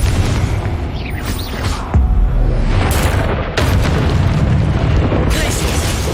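Repeated Confringo blasting-curse explosions in the Hogwarts Legacy video game, loud booming bursts with sharp onsets at about two, three and a half and five seconds over a dense, continuous roar of battle effects.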